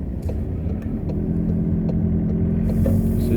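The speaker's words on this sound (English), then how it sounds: "So here we are, driving in England" Car driving on a road in England, heard from inside as a loud, steady engine rumble and road roar with faint ticking, swelling slightly near the end.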